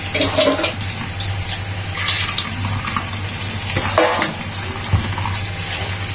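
Mustard greens being washed by hand for pickling, with continuous splashing and sloshing water over a low steady hum, close and fairly loud, a few sharper splashes standing out, no voices.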